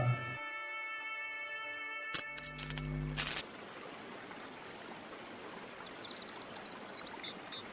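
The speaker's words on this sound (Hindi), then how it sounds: "चिड़ियों की चहचहाहट और पानी की आवाज" Steady broadband rush of flowing water in a forested mountain setting fills the clip, with faint high bird chirps appearing late; a brief burst of louder tonal noise comes early.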